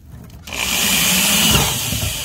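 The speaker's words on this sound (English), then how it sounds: "It's just a regular drill that I had at the house." A regular household power drill spins up after a quiet start and then whines steadily and loudly, close by, as it bores a drain hole in a pot.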